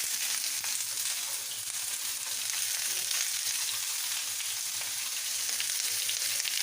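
Chopped onions frying in a pan while palak paneer is being cooked, a steady broadband sizzle with crackling that holds evenly throughout, close and continuous with no talk.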